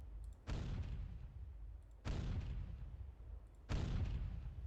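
Naval ship turret guns firing in the NavalArt video game, three separate deep booming blasts spaced about a second and a half apart, each followed by a rumbling tail, with no talk.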